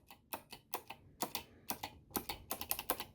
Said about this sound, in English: They sound really nice and clicky.